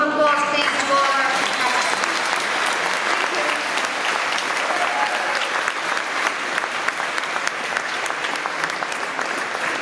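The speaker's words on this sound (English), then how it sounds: "So a big round of applause please to all our" An audience applauds at a certification ceremony, a dense, steady wash of clapping that carries on for about ten seconds at an even level, with some voices near the start.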